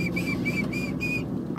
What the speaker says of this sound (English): I curve my tongue. Feels that my tongue's curved. And I'll do my whistle in it.